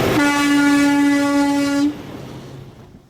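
A freight train on the Iron Range subdivision out of Two Harbors sounds one long, loud, steady horn blast that cuts off sharply, leaving a softer rumble of the passing train.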